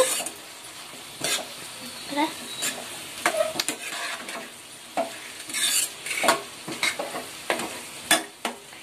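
A utensil scrapes and stirs egg and potato curry frying in a pan after turmeric goes in, giving a steady sizzle broken by repeated close metallic scrapes and knocks with no talking.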